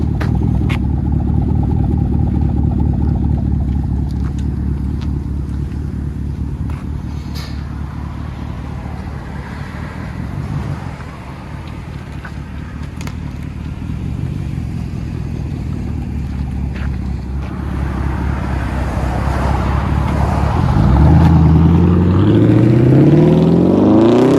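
A 2019 Chevy Camaro SS with a 6.2-liter V8 and straight-pipe exhaust with a 5-inch tip rumbles loud and close, holding a deep steady idle before rising into revs near the end.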